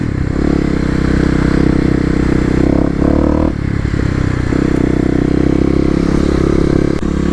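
Stage 1 tuned Kawasaki KLX250 dirt bike ridden on off-road OHV trails, its single-cylinder engine buzzing loud and close with constant revving and gear changes, plus rattling and scraping from rough terrain.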